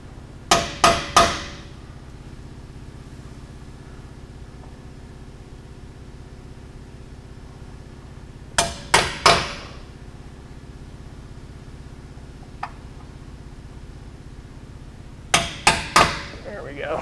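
Rivets are hammered in during a skid plate install on a Can-Am X3 XRS, heard as three bursts of three sharp, ringing metallic strikes spaced several seconds apart over a quiet background.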